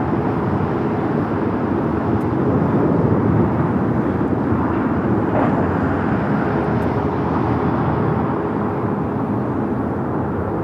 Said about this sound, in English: We have the Qantas A380 about to fly downwind.